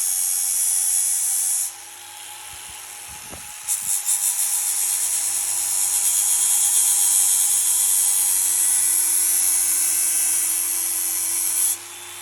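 A power tool grinds down crown molding, a steady high whine that cuts in and out in a few passes, running alone without talk.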